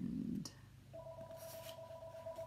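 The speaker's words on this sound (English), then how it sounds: "There goes my phone." An electronic phone ring interrupts a quiet indoor moment: a short scrape first, then a steady two-tone ringing tone that holds for a couple of seconds at modest volume.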